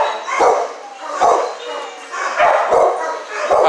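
Dogs bark at a county dog pound in Butler County, several loud, close barks coming in bursts roughly every second with short gaps between them.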